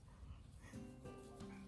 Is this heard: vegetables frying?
no